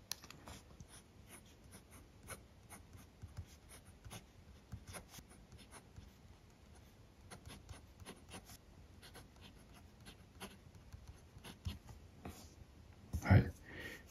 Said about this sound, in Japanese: これが万年筆、先日紹介したばかりの中林の万年筆です。